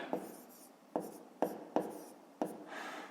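Pen writing on paper during math homework, scratching in a series of short strokes, each starting with a light tap and fading, close and quiet with no talk.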